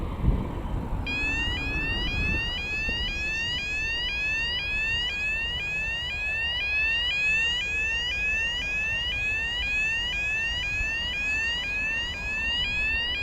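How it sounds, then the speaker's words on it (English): An airport staff gate alarm at Glasgow Prestwick Airport sounds outdoors as the gate opens, a loud repeating electronic whooping sweep that rises over and over without pause, above a low background rumble. "every time the gate opens for the staff to come in and out of the airport, that alarm goes off"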